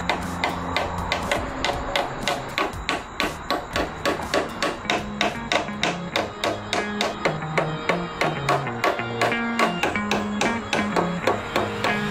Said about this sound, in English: all we're gonna do is hammer them in with some nails